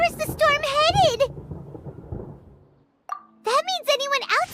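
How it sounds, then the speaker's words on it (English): Thunder from a storm in Genshin Impact rolls as a low, muffled rumble between stretches of character dialogue that open and close the passage. "Paimon hears thunder!"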